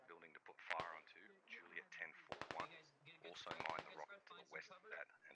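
Machine gun fire in the tactical shooter game Squad, sharp rapid bursts of several shots crackling between and over close-up talk, with a radio-like quality.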